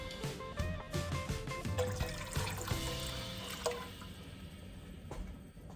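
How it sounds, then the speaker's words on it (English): Water poured into a soup pot already holding chicken broth: a quiet, splashing pour that trickles and thins out, heard close, followed by faint drips. "And 6 cups of water."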